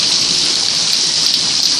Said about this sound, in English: It is so rainy outside!